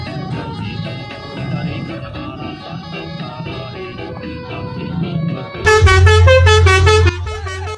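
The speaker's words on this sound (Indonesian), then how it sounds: "Basuri bukan sekadar klakson." A Basuri telolet bus horn plays a bright, tuneful multi-tone melody that bursts in loud near the end, sounding over a busy, noisy street scene.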